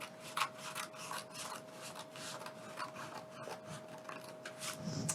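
Scissors cut a sheet of paper up the centre while making a concertina sketchbook, a quiet continuous crisp snipping and rasping held close, with no voices.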